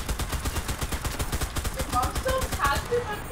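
Rapid automatic gunfire in the online shooter CRSED, a steady rattling burst throughout with players talking over it.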